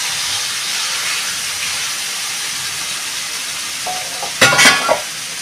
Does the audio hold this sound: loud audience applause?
no